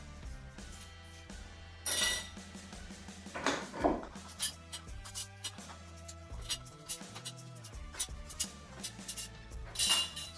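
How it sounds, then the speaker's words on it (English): Metal screw bands come off sealed glass canning jars of home-canned windfall apples, giving quiet scattered clinks, taps and scrapes of metal on glass at close range. "what you've got to do is take the rings off"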